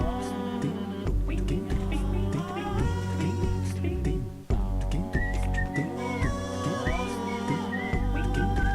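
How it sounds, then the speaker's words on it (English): In a music video game, a whistled melody loops over a layered electronic backing with a steady beat. A brief break comes near the middle before the loop resumes. "because I want the whistling instead."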